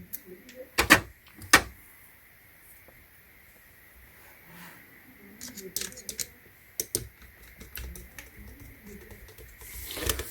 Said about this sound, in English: You're gonna screw that in, okay? So let's go ahead and screw this on.